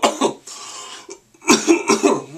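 Several harsh, close coughs in quick bursts, with a pause between two clusters, the later ones rougher and louder.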